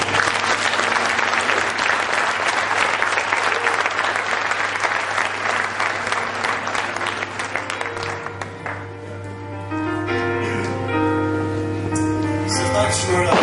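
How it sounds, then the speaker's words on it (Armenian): A church congregation in Yerevan claps together in a sustained, dense round of applause for about eight seconds, then the clapping thins out as tonal music with a steady low hum rises in its place. "Ես կարծում դուք ինքներդ մեր Տիրոջը ծափահարեք եւ ձեզ"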